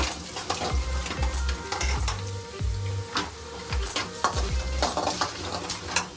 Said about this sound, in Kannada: ಎಣ್ಣೆನಲ್ಲಿ ಹಂಗೆ ಫ್ರೈ ಮಾಡ್ಕೊತೀನಿ ಒಟ್ಟಿಗೆ ಎಲ್ಲ ಮಸಾಲೆಗಳನ್ನ ಒಟ್ಟಿಗೆ ಹಾಕೊತಾ ಇದ್ದೀನಿ